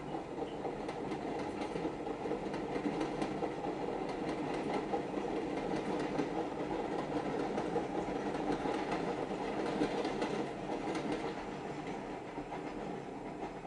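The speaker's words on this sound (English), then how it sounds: "This train passing." A train rolls past steadily with a continuous rumble and faint rhythmic clatter of rail cars, moderately distant and unbroken throughout, no voices.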